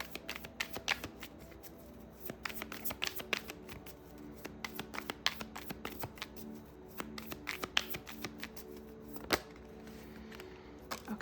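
Tarot cards are shuffled and drawn by hand up close, a steady run of crisp papery flicks and snaps, with a few louder slaps standing out from the quiet background.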